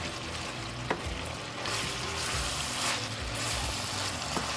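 Food being stirred in a cooking pot while frying for a Congolese dish, with scraping strokes and soft clacks over a steady sizzle, close and moderately loud, with no talk.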